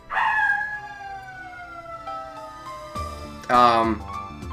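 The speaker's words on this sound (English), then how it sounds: "You just wanted to howl!" A dog in the video game Ever 17 gives a long, drawn-out howl that slowly falls in pitch and fades, followed by a short, louder yelp.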